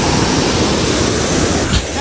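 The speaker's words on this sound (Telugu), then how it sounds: "Bye bye water falls." Kanthanpara waterfall in Wayanad, Kerala, rushes in a loud, unbroken roar of pouring water, heard up close for a brief moment.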